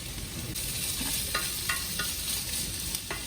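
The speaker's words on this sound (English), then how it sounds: "I want to get the sausage to sort of start to cook and release some of their flavor into the oil" Smoked sausage fries in oil in a pan, a dense, steady sizzle with a few short scrapes and clicks over it. No voices are heard.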